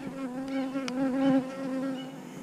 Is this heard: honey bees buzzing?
yes